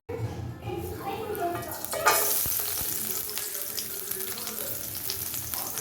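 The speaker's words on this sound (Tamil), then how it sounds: "எண்ணெய் காஞ்சதும் பொடியாக நறுக்கிய பூண்டு அதில் சேர்த்துக்குவோம்." Finely chopped garlic hits hot oil in a kadai, bursting into a steady crackling sizzle that holds on near and fairly loud, with some stirring clatter and a voice faintly in the background.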